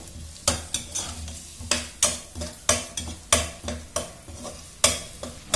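Finely chopped carrots sautéing in a pan with a rhythmic run of stirring scrapes every half second or so over a quiet sizzle, close by and without talk.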